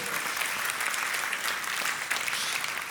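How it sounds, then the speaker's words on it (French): Audience applause fills a hall at a church teaching session, a dense, steady wash of many hands clapping at once, loud and close, continuing throughout without a break. "Il y en a qui ont envie d'applaudir, applaudissez, applaudissez."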